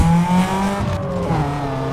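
A car in the racing game Need for Speed Underground 2 pulls a handbrake turn, its steady engine drone running under a sustained tire squeal that wavers in pitch, loud and close throughout.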